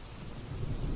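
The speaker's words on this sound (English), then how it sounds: "The sky had turned gray, and the rain fell in thick sheets." Heavy rain pours with a deep rolling rumble of thunder as a storybook sound effect, a dense, loud wash of noise that swells toward the end.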